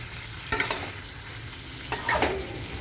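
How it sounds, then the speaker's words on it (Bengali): Spice pastes of turmeric, green chili, cumin and ginger with red chili powder sautéing in a pan for a katla fish and potato curry, a constant sizzle broken by two bursts of spatula scraping and stirring, close up. "লাল লঙ্কার গুঁড়ো দিয়েছি এইটাকে কষাচ্ছি"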